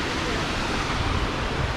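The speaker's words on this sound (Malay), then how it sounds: "So sungai kat bawah ni." River water rushes below a campsite at Lata Perahu in Kuala Kangsar, a dense, steady broadband roar of flowing water that holds constant from start to finish with no pauses.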